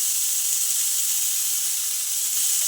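Salted bitter gourd slices fry in hot oil in a village-style kitchen, giving a steady, close, unbroken sizzling hiss with no talking.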